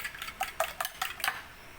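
Leche flan custard mixture with calamansi being stirred in a bowl, a quiet run of quick rhythmic clinks and scrapes from the utensil against the sides, with no voices.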